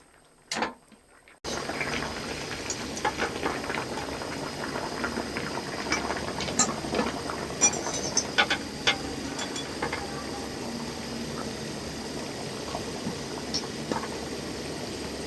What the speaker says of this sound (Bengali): এবারে পেঁপের টুকরোগুলো একদম হালকা করে ভাপালেই হবে।